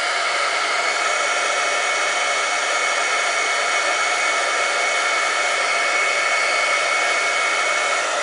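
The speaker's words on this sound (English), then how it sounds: "so here's my heat tool, and I'm going to warm this up and then go in circular motions." Heat tool blowing steadily to melt silver embossing powder on a butterfly card, a constant loud hair-dryer-like whoosh of air throughout with no pauses.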